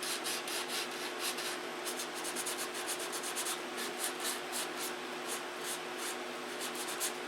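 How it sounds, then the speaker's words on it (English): Quiet, repeated rhythmic strokes of 180-grit sandpaper scuffing a model control-line stunt plane's windscreen frame, each pass a short gritty rasp in steady succession, close up with no talking. "I'm going to take some 180 and we're going to scuff up the frame on the windscreen just so that the paint sticks."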